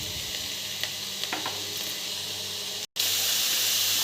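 Onion, carrot and capsicum frying in a pan hiss and sizzle steadily at close range, with a few small clicks, a brief dropout and then a slightly louder sizzle; no voices.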